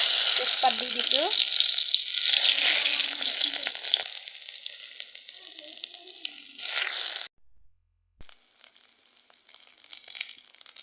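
Green chilies and bay leaves drop into hot oil and fry with a loud, continuous sizzle and crackle, with brief voice sounds early on; the sizzle fades, stops briefly, then returns faintly.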